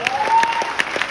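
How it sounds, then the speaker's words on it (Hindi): An audience at a rank celebration event gives a short burst of applause, with scattered claps under a faint tone and no voice heard. "एक बार विजय गुरु जी ने जोरदार तालियां।"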